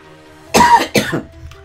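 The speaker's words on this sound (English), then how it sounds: "got a little cough job here." Two quick, harsh coughs in close succession, close by and fairly loud, followed by quiet.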